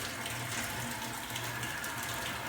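Water runs steadily from a tap, a continuous, fairly faint hiss and splash heard alone with no voices over it.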